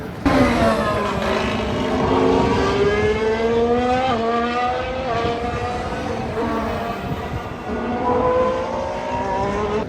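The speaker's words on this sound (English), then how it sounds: "you see the cars making a corner and you also see them ball straight towards the finish line" Formula 1 race cars at the Bahrain circuit, high-pitched engine whines rising and falling as cars pass and shift gears, loud and continuous with overlapping engines.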